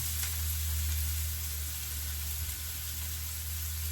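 Ginger and garlic sizzle in a pan for a spicy laing dish, giving a soft, steady hiss over a low background hum.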